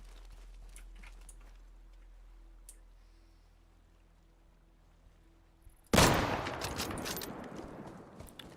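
Sudden burst of loud gunfire from the online survival shooter Deadside erupts near the end, dense and sustained after a quiet stretch with faint ambient hum.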